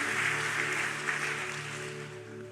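A church congregation claps in praise, a steady mass of applause over a sustained musical drone from instruments, fairly loud and easing slightly by the end.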